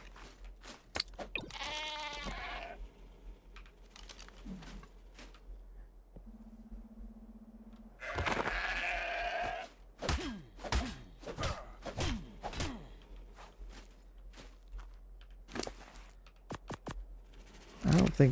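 A sheep bleats in the video game ARK: Ragnarok in short wavering cries near the start, set among sparse thumps, a brief tone and whooshing game sounds, with someone talking quietly between them.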